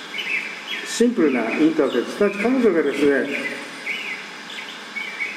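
Light birdsong chirps from a small blue glass music bottle, faint and repeating in the background while a person speaks Japanese over them.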